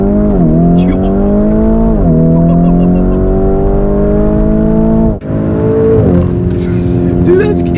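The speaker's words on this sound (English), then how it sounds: "Launch control in the Urus." A Lamborghini Urus launches hard under launch control, its loud engine roaring with rising, stepped revs as it shifts through gears close by, one brief cut near the end, while people talk excitedly over it.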